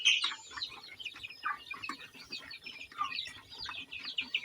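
Young broiler chickens in a coop fill the air with dense, overlapping high chirps and peeps that continue steadily without a break. No one speaks.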